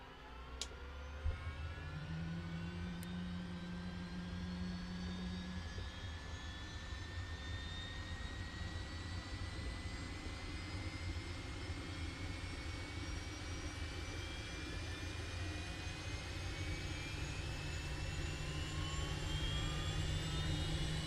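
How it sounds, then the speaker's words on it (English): A Cowansim 500E jet engine in Microsoft Flight Simulator winds up steadily, a loud continuous roar with rising whine tones building over about twenty seconds, heard alone with no talking. "Let's wind up the engine and I'll shut up for a bit so you can hear the wonderful noises"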